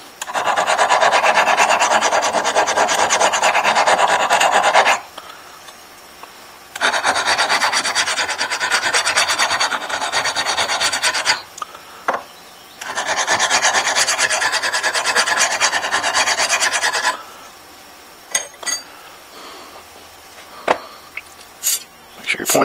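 A blade, likely a broadhead for a crossbow arrow, is sharpened by hand with long, loud rasping strokes in three sustained bursts separated by short pauses, then a few scattered scrapes and clicks. No voice is heard.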